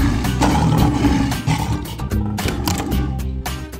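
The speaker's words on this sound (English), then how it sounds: "Behind the door two, there is a lion who is hungry since 2 years." A hungry lion roars loudly and close, with rough, rumbling roars repeating over a few seconds.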